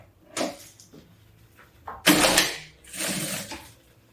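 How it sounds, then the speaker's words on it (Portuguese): A sewing machine stitches the lining into a simple double crossbody bag, running in two close bursts of whirring stitches, each lasting about half a second, with quiet handling pauses around them. "E vou passar uma costura certinho, só unindo agora o forro em tudo."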